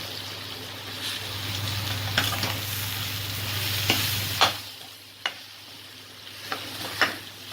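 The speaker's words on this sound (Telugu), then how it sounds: "పచ్చివాసన పోయేదాకా వేయించుకుని ఇంకా మంచిగా పొడిలాగా వచ్చేటట్టు వేయించుకోవాలి" A ground urad dal stuffing fries and is stirred in a pan, producing a steady sizzle and several sharp scrapes of a spoon against the metal. The sizzle eases off partway through and no voice is heard.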